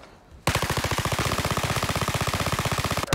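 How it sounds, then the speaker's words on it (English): Rapid automatic gunfire from a weapon in a video game, a loud sustained burst of evenly spaced shots that starts abruptly and runs for nearly three seconds, close and alone. "But, dude, check out this gun. Check out this awesome..."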